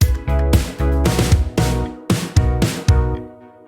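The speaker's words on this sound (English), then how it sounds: "I do have a little drum fill that's going to go into the chorus." A short drum fill in a pop track builds toward the chorus, with punchy hits over sustained synth chords, loud and close, ending in a decaying tail.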